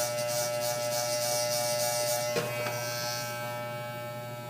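An electric hair clipper buzzes steadily during a self-cut fade, a close, constant drone with a brief click partway through, easing slightly toward the end with no talk.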